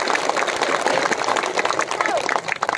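Audience applause at a Kailajuli public meeting with BTR leaders and the Dhekiajuli MLA, a dense wash of clapping from a crowd filling the clip, with voices mixed in underneath.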